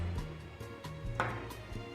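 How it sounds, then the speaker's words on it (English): A knife taps rapidly on a cutting board, chopping garlic in quick, regular chops, fairly soft and close. "always starts with chopping garlic"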